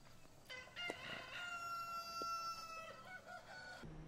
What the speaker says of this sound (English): Oh yeah, don't mind the chickens.